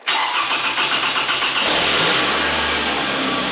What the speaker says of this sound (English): Let's just go ahead, we'll fire it up for you real quick, see if it does that extended crank.